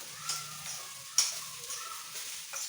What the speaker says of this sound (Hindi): ये आलू फ्राई कर दिए हैं